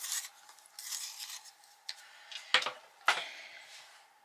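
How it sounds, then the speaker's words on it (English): A colouring pencil is sharpened with faint scraping, rasping strokes in irregular bursts, followed by two sharper scratchy scrapes near the end, close and quiet with no talk. "now I'm going to sharpen this one to help me get into that corner"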